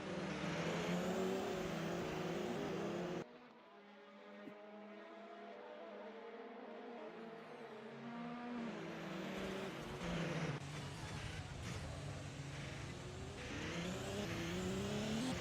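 LMP3 prototype race cars pass on a track at Bahrain in a night race, with engine drones rising and falling as they go by and shifting pitches layered over one another, fairly quiet and with no voices.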